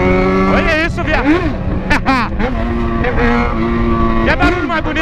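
A Yamaha XJ6 motorcycle with a straight-pipe exhaust revs loudly and close by, its raw engine note rising and falling in repeated throttle blips over a steady idle.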